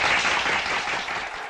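Short burst of crowd applause answering a political speech, bright and dense clapping that holds for a second and a half before easing slightly, no voices on top.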